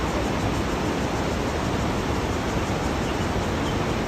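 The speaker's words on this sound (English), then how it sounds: "look at the waterfall and look where it's joining and look at the change in the color" A waterfall produces a steady, dense roar of rushing water that stays even and unbroken from start to finish.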